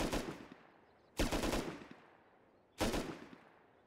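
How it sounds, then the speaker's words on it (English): Three separate bursts of rapid automatic gunfire in the video game Rust, fired through a floor from below, each a short rattling volley that fades, spaced about a second and a half apart. "He's shooting me through the floor."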